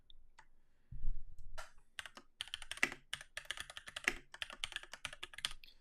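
Typing on a computer keyboard to post a comment, with quick bursts of close, crisp key clicks in an uneven rhythm after a soft thump, and no voice.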